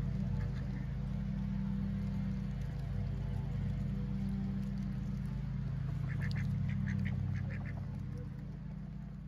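Little black ducks quack in short bursts in a garden, several brief calls over a steady low hum of background noise.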